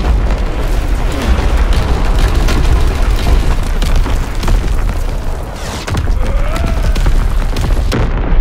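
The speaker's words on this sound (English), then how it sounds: "Incoming enemy artillery." Artillery explosions rumble through a WW2 video game battle, a dense, continuous roar of booms and blasts at high loudness, with one brief dip before the barrage swells again.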